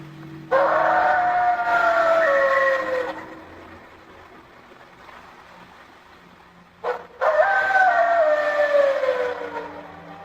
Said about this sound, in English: The howl is similar to a wolf's, but deeper, heavier, like something far bigger.